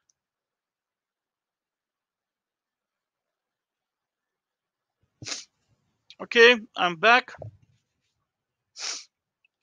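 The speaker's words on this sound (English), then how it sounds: "one second, let me sneeze." A single sharp sneeze, then a short spoken phrase and a brief breathy sound afterward, following several seconds of near silence.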